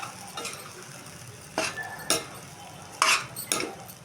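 Cooked rice being mixed with lemon juice in a pan, a few separate scraping and clinking strokes of a spoon against the pan over a faint background sizzle.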